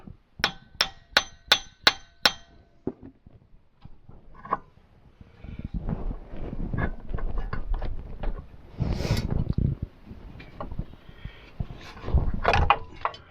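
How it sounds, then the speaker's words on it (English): Hammer blows on a bolt during axle replacement on a 2012 Chevy Equinox: a rapid series of sharp metallic clangs, then scraping, clunking and rattling of parts, with a few later knocks. "you can hit upwards on it with a hammer and you're not going to hurt the bolt"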